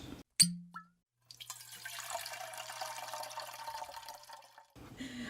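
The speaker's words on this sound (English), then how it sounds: "we gotta pour one out" Liquid is poured out in a steady, close trickle and splash lasting several seconds, preceded by a sharp knock and a short drip, with no voices.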